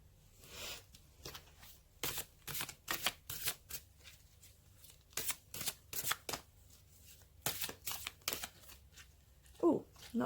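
A deck of cards is shuffled repeatedly in quick riffling bursts, close and crisp, with brief pauses between shuffles and a soft voice near the end.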